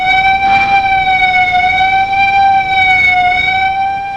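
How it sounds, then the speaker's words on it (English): A chemical plant's alarm siren sounds as one loud, steady, continuous tone with layered harmonics, held unbroken throughout. "If you live near the plant and you hear a signal continuously, be aware there may be a chemical emergency"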